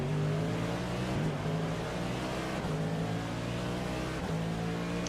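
Porsche and Cadillac race cars roar steadily through a 24-hour Daytona GT3 race in a racing video game, a loud continuous engine drone with shifting pitch and no talk.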